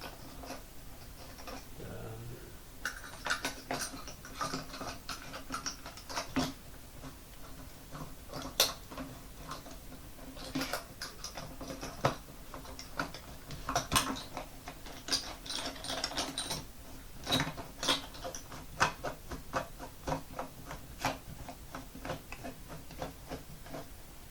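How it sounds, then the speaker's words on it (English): Plastic threads ratchet and grind as a pole is screwed by hand into a kids' punching bag stand. Irregular clicking bursts come close and steady over about twenty seconds, with brief pauses between turns. "And you just screw this pole in, I guess."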